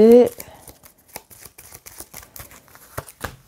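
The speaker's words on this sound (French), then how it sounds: "je vais mélanger ma défausse" A discard pile of cards being shuffled by hand, a run of quick soft riffling clicks, close and quiet, following a brief spoken word at the start.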